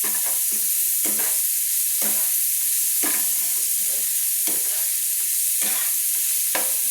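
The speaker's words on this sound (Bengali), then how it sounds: "আমি পেঁয়াজগুলোকে লাল লাল করে ভেজে নিচ্ছি" Onions frying in oil until reddish-brown while being stirred: a steady loud sizzle, with a spatula scraping the pan in regular strokes about once a second. No talk.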